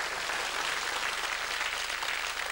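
Studio audience applause on a televised quiz show, a dense and even wash of clapping that holds steady throughout, with no talk over it.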